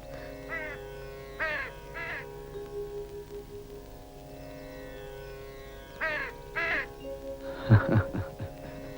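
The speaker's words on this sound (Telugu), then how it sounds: "ఆ కాకులు కావు కావు నరుస్తున్నాయి కదా" Crows caw in short separate bursts, a few calls early, then more near the end with a louder close call, over a quiet steady background hum.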